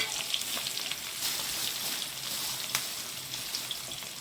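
Chopped shallots frying in a pan for avarakkai sambar make a steady, close hissing sizzle with bright crackles and a few sharper spits, without any voices.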